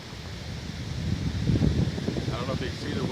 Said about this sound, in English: I don't know if you can see the wind blowing the trees in the background